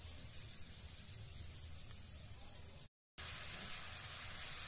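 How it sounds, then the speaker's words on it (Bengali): Grated coconut hitting a hot pan for Bengali patishapta pithe filling gives a steady, loud hiss that runs throughout, with a brief dropout near the middle; no one speaks. "কড়া গরম হয়ে গেছে, এবার আমি নারকেল কোড়াগুলো দিয়ে দেবো।"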